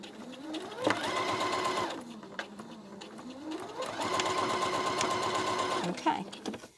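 A sewing machine runs a lock stitch along a seam in two bursts, its motor whirring up to speed with rapid needle clatter, pausing in between and then winding down.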